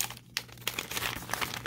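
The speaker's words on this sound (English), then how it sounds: "I'm just gonna rip it open as I reach for the scissors." Crinkly plastic packaging rustles and tears in a few quick, crisp bursts, close and fairly quiet.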